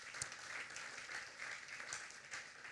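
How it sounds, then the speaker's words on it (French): A church congregation applauding, a steady, distant wash of clapping from a large crowd lasting the whole moment. "Est-ce qu'on peut acclamer la parole de Dieu?"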